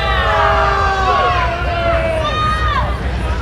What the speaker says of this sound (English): this crowd is getting into it, booing the heck out of Cam Stewart over here